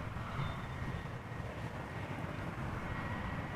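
A 15-year-old Austrian Airlines Airbus A320 arrives from Vienna at Amsterdam Schiphol. It is heard as a distant, low, steady rumble mixed with wind noise, with no talking.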